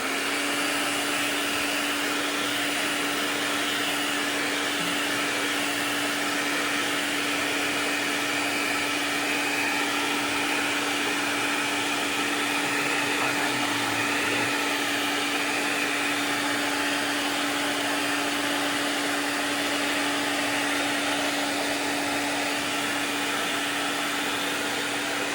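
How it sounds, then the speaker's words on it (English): A hair dryer blows continuously and steadily for the whole stretch, heating grip tape being fitted onto a handgun grip; a loud, close, unbroken whirring hiss with no talking. "now we get to do the magic with the hairdryer"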